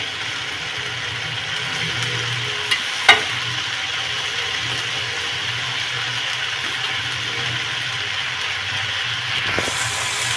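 Rice being stir-fried on high flame in a pan for street-style veg fried rice with tomato sauce: a steady sizzle with scraping and stirring, and a couple of sharp clinks of a spoon against the pan.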